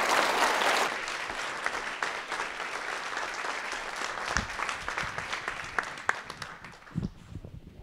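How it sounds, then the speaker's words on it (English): An audience claps for a keynote speaker at a university event, starting as a full burst of applause and gradually thinning into scattered individual claps. "Another round of applause for our keynote speaker."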